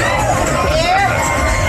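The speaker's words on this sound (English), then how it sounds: "We've got a crowd in and they seem happy." Crowd of people in a bar area on Walking Street, a steady hubbub of mixed voices and babble with occasional shouts, close and continuous throughout.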